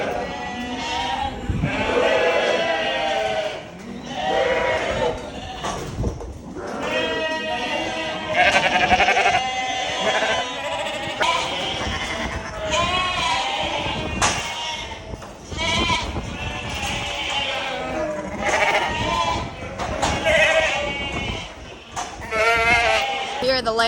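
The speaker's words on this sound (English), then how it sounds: "We're going to run the ewes through with and draft them off of the lambs." Sheep ewes and lambs in a shed on an Australian farm bleat constantly in an overlapping chorus, near and loud, with a person talking occasionally among the animals.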